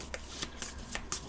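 A stack of cards from the board game Llamas with Hats: Hungry for Hands being shuffled, with several crisp riffling bursts in a quick irregular rhythm, close and moderately loud, with no talking.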